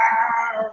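A person's voice imitates an animal growl with a brief, loud, drawn-out howling cry close to the microphone.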